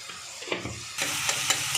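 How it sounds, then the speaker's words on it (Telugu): Onions, green chilies and tomato sizzle in a pan while being stirred, with soft scraping at first and then a louder, denser frying hiss in the second half, close up and with no voices. "ఉల్లిపాయలు, పచ్చిమిరపకాయలు, టమాటా బాగా వేగింది కదా"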